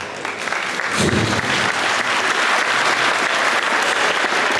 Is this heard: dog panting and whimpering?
no